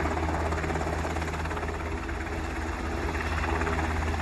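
A military helicopter's steady rotor thump and engine whine drone continuously, at an even level with no change in distance.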